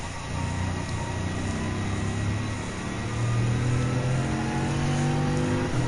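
Race cars, a Dodge Viper among them, roar loudly and steadily through laps at Autopolis in Gran Turismo 7, engines droning with rising pitch shifts, no talking.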